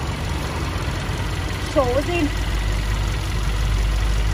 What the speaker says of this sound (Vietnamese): Em sẽ quay qua khoang động cơ.